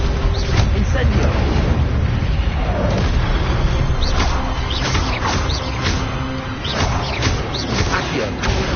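Spell effects in the Hogwarts Legacy game, Accio, Incendio and Levioso cast in quick succession: loud booms, whooshes and crackling bursts over a dense, continuous combat mix.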